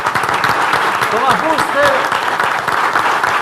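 An audience applauds steadily at a breakfast event hosted by Renta 4 after a presidential debate on economic policy, with a voice announcing over the clapping.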